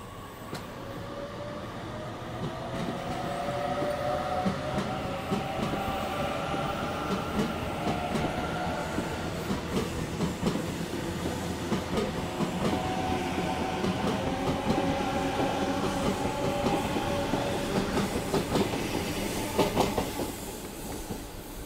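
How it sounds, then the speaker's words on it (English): A Sydney Trains A61 set departs Strathfield station, giving a steady rumble with rhythmic wheel clatter and faint rising whine across the platform, continuous and moderately loud with no voices. "A61 now departing."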